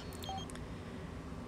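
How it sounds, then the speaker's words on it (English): A phone rings inside The Sims 4 life-simulation game as a brief burst of bright electronic beeps near the start, then fades into a steady low background hum. "Mom's phone is ringing."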